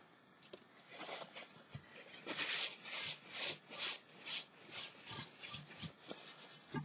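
A painted ceramic gnome is rubbed to take paint off, producing quiet, rhythmic scratchy strokes in repeated bursts, close and faint with no talking.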